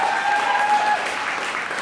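An audience applauds at a podcast conversation, a brief even wash of clapping at steady moderate volume, with a faint tone running through the first half.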